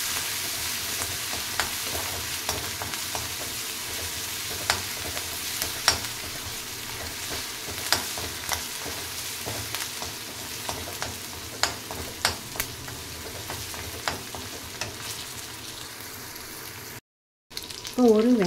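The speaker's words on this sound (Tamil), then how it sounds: "இஞ்சி பூண்டை நல்லா வந்து வாசனை போகிற மட்டும் நல்லா வதக்கணும்." Ginger and garlic sauté in hot oil in a pan, a continuous close sizzle broken by frequent sharp spatula scrapes and taps, with a brief dropout near the end and a louder clatter after it.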